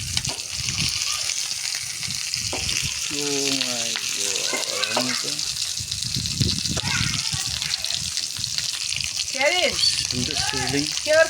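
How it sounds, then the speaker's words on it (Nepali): Food sizzles loudly and steadily over a village clay stove, with pork and tomatoes cooking, while voices talk over the constant frying hiss. "ओहो सिजलिङ हेर त सिजलिङ"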